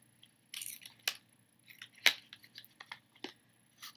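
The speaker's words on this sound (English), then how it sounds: "I'm about to just rip into this thing." Packaging for a cosmetics subscription box is ripped open up close in a quiet room, giving several sharp crinkling tears and rustles, with a few louder snaps spread through the handling.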